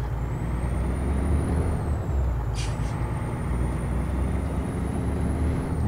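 A truck's air brakes release in American Truck Simulator, a brief hissing burst rising over the steady low engine rumble, with a thin whine holding above.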